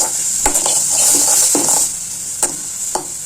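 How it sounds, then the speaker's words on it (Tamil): Onions and tomatoes sautéing in a pan, with a loud continuous sizzle under several distinct scrapes and clinks of a spatula against the metal, close up and without talk. "நல்லா வதங்கட்டும்."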